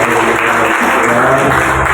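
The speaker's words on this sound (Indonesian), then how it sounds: "Tepuk tangan buat Tuhan kita." Steady, dense applause from a congregation at a joint worship service of a ministry team and a vocational school in Nanga Pinoh, continuous and loud for the whole stretch.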